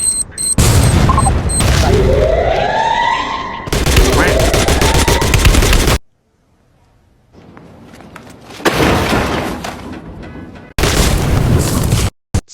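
Loud gunfire from the mobile battle royale game Garena Free Fire on the Solara map, with rapid bursts, booming shots and a sniper, in dense overlapping volleys broken by a short quiet gap.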